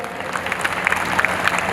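Scattered applause from relatives at a family reunion gathering in a village, a thin patter of claps that builds slightly over a short stretch, mixed with faint crowd murmur.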